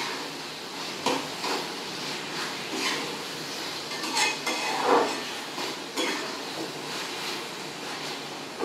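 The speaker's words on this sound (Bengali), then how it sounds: "ছানাটা আমি ভালো করে মশলার সঙ্গে ভেজে নেব" Chhena (fresh paneer-style cheese) frying with spices in a pan while being stirred, with scattered spoon scrapes and clinks over a steady soft sizzle, close and moderately quiet.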